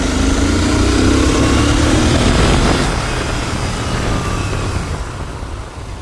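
Royal Enfield Continental GT 650 motorcycle pulling hard in second gear, a loud, steady engine roar with rising pitch that eases off slightly toward the end, with no talk over it.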